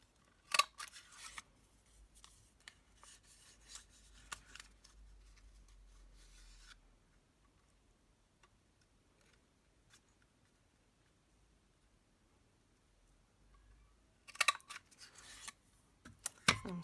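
Scissors snip through a craft label punch strip in a few quiet, crisp cuts at the start and again near the end, separated by near silence.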